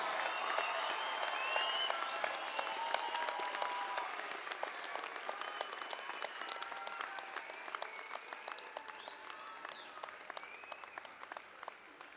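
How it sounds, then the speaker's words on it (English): A large audience at a college convocation applauds its graduates, a dense, sustained wash of clapping that carries on at an even level and slowly thins toward the end. "Give them all a round of applause."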